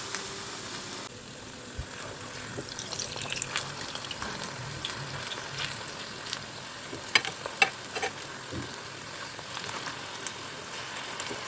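Slices of pumpkin and eggplant fry in a new frying pan, a soft, continuous sizzle with small crackles and pops, quiet and close, with no talking over it.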